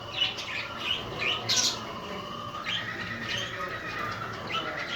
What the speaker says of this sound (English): Kookaburra. Kookaburra is the best.